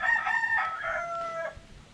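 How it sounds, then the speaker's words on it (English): A rooster crows loudly and close in a chicken yard near snow-capped mountains, one long drawn-out call lasting about a second and a half, followed by quieter farmyard background. "I'm going to show you the chickens."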